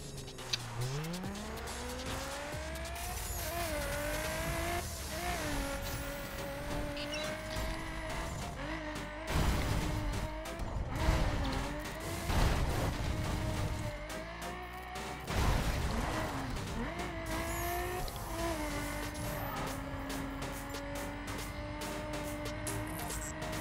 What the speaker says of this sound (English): this is my Nissan 370Z